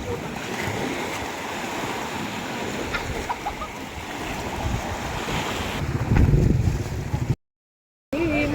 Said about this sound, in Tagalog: nandito pa rin tayo sa dagat